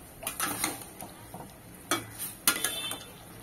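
Grated carrots being stirred with milk in a pan for carrot halwa give soft, irregular scraping and clinking strokes, several short bursts spaced unevenly, close and moderately quiet with no talking.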